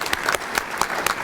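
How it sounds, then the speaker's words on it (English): A room of members at an annual meeting clapping briefly for retiree associations, a short burst of scattered, uneven hand claps. "if we could just really quick give you guys a quick hand"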